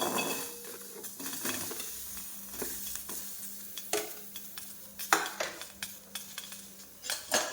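Green chillies dry-roasting without oil in a kadhai on a gas stove, a spatula stirring and scraping with soft sizzling and irregular metallic clinks, close and fairly quiet, no speech.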